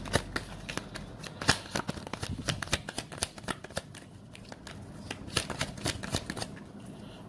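Tarot cards shuffled up close, a steady run of crisp riffling snaps and papery clicks that carries on throughout with no talking.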